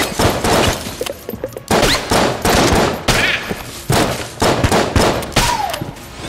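Scoped gunfire in Enter the Gungeon, a rapid, loud run of video-game gunshots in repeated bursts, with brief pauses between volleys.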